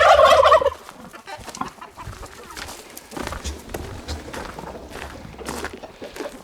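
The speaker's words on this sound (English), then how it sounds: "Turkeys." Turkeys on a small farm gobble in repeated bursts, one loud close call at the start followed by scattered softer gobbles and clucks across the yard.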